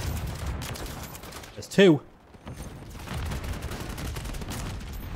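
Gunfire in the video game Modern Warfare 3: a single sharp, loud shot from a sniper rifle cracks out midway, set against quiet game ambience. A player speaks briefly.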